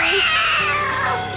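A cat gives a single loud, drawn-out meow that wavers and trails off, close and alone.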